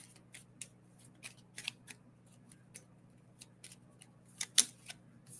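Oracle cards being shuffled close by in a quiet room, a series of brief papery riffles and flicks scattered irregularly, a couple slightly louder snaps near the end.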